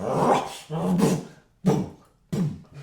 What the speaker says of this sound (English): you hear this kind of growling sound